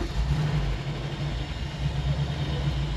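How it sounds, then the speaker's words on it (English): A 1964 Ford F100 pickup's engine runs steadily as the truck backs out, a loud, close, continuous low rumble with a slight roughness. "Alright, don't hit anything backing out."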